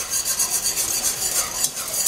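A whisk beats rhythmically against a pan of soy sauce sauce thickening for hot shrimp, giving a fast, steady swishing scrape over a soft bubbling sizzle, close up with no speech.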